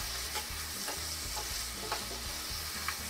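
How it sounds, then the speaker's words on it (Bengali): Chicken curry ingredients with desi chicken, potato and pointed gourd being stirred and fried in a pan, giving a dense continuous sizzle with rhythmic scraping strokes, close and loud with no voices. "সবগুলো নাড়াচাড়া করে ভেজে নিব।"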